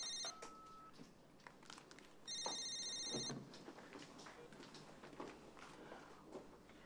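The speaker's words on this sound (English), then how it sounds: "The other phone is ringing." A telephone rings in short electronic bursts twice, faint against a quiet room, with footsteps or movement shuffling nearby.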